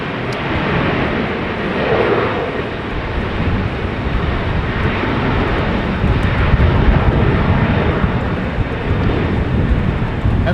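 A departing airplane at Amsterdam Schiphol Airport in wet, windy weather: a broad, steady jet roar holding loud and constant, mixed with wind noise.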